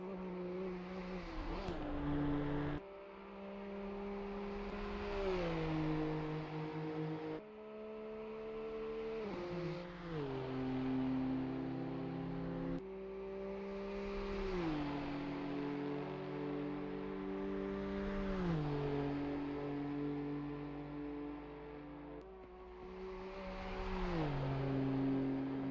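Race car engines in a multiclass sim racing game at the Nürburgring Nordschleife, revving up repeatedly through gear changes, each climb cut by a shift, steady and close for the whole stretch.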